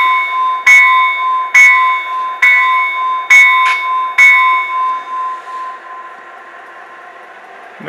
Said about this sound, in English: Got the bell.